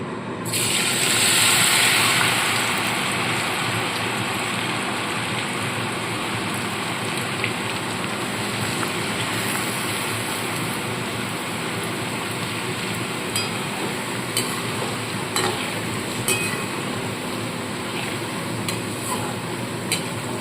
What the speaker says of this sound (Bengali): আবারও আমি কিছুটা আলু এইভাবে তেলের মধ্যে দিয়ে দেবো